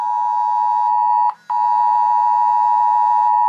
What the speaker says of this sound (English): that loud beep was from the iPhone